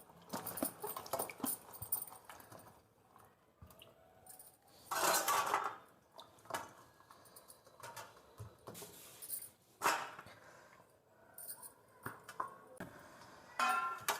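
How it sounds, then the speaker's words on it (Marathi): An eggplant being cut into four pieces on a board in a home kitchen, several scattered, crisp knife chops and taps, quiet, with gaps between the cuts. "आता हे कापून घेऊ असे चार फुडी करून घ्यायच्या वांग्याच्या"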